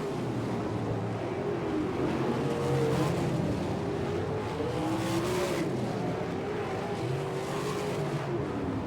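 Sprint cars racing to the checkered flag at Fremont, Ohio, during an All Star Circuit of Champions night: engines wail continuously with rising and falling pitch, heard from a distance over a noisy crowd-like background.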